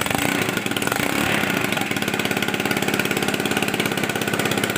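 Close by, a Honda Beat FI motorcycle engine idles with a steady, rapid putter and a rough, raspy exhaust note from a leaking exhaust. No voices.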